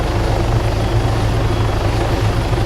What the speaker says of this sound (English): you see the helicopter just start getting higher in the air